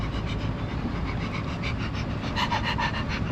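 A dog pants rapidly and rhythmically in hot weather outdoors, the quick breaths close and fairly quiet against a low background rumble.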